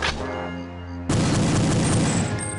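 Pistol fire from the Falcon 2 in the Perfect Dark video game with the 1964 mod: a dense, loud burst of rapid shots breaks in after a tonal in-game sound and continues to the end.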